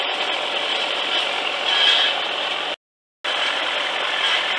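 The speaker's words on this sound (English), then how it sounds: "First bead laid down." Welding a bead on a part of a Massey Ferguson 165 tractor gives a steady, loud, dense crackling hiss that cuts out abruptly for about half a second, then resumes at the same level.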